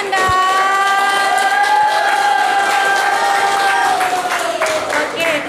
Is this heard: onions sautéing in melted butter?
no